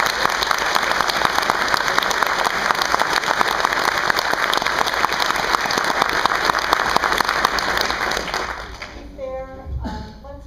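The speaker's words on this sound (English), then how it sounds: "Let's hold the applause." Loud, sustained applause from a large crowd fills the room, dense and steady, then quickly dies away near the end as a voice starts to speak.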